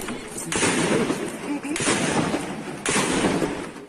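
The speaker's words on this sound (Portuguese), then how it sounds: "dava para ouvir o barulho dos tiros" Dense bursts of gunfire crackle in a few sustained volleys, loud and close, with rapid shots blurring together and no clear gaps between them.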